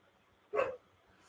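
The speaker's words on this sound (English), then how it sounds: "Oh, my dog wants to kill something." A dog gives a single short bark from a little distance indoors, a sharp burst standing alone in an otherwise quiet room.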